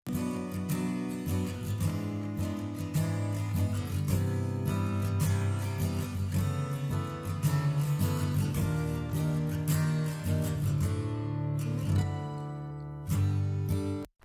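Stereo acoustic guitars mixed with reverb, steady strummed chords that ring out loud and full before a brief pause and a final strum, with no voices.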